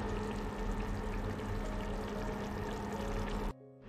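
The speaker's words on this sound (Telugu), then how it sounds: "దీంట్లో 2 cups ఆఫ్ వాటర్ యాడ్ చేసుకోవాలి." Water pours in a steady, hissing stream into a pot of dal and rice for bisibelebath, continuing evenly for a few seconds before stopping abruptly.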